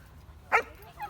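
A single short bark sounds nearby against quiet background, followed by a faint whimpering yip.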